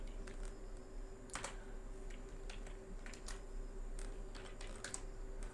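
Code is typed on a computer keyboard in quiet, irregular bursts of close key clicks over a low steady hum.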